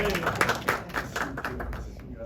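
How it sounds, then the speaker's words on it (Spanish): An audience at a film screening event claps, with quick irregular hand claps at close range over a low murmur of voices, thinning out toward the end. "un gran aplauso para ella"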